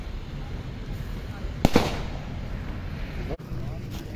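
Firecrackers go off outdoors during Diwali, a sharp close bang near the middle over steady background noise, with a fainter crack shortly after and voices in the background.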